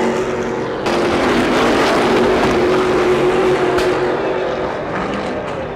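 Race cars running at a Supersprint meet at Barbagallo Raceway in Perth, a continuous loud engine roar filling the scene with shifting pitch as cars pass, steady and dense throughout.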